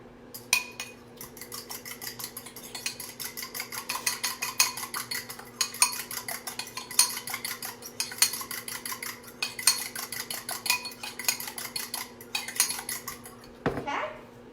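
A utensil rapidly whisks a garlic powder and parsley mixture against a dish, fast repeated clinking in bursts with short pauses, close by, over a steady low hum, ending with a brief voice.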